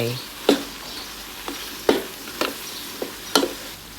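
Pork ribs stir-fried with shrimp paste and southern Thai curry paste in a pan, with a spatula scraping and clanking in sharp separate strokes about every half second over a soft sizzle.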